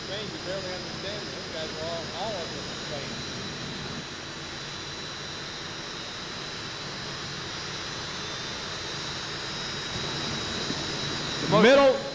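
Jet engines roar on a multi-engine pulling vehicle at a 1990 National Farm Machinery Show tractor pull, a steady loud hiss and rumble that surges near the end, with an announcer talking over it.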